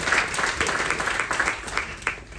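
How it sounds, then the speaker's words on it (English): An audience at a carnival military appreciation event breaks into applause, a thick continuous patter of many clapping hands, close and loud, with a few sharper claps standing out near the end. "a big round of applause for our active members"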